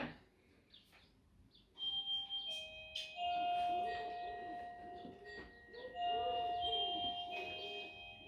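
A long electronic doorbell melody plays several sustained tones in sequence, thin and echoey as if recorded on a phone, after a few faint knocks.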